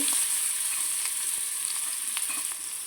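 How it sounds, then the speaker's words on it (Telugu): Capsicum dropped into hot oil with butter sizzles loudly and close, a dense steady hiss with faint stirring scrapes and no voices. "ఆయిల్ హీట్ ఎక్కింది కాబట్టి మనకి బటరు క్యాప్సికమ్ వేస్తున్నాండి"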